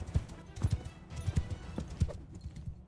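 Horse hooves clip-clop at a quick galloping rhythm in the video game Mount and Blade, several heavy thuds in a row, with a faint neigh and muffled game sounds around them.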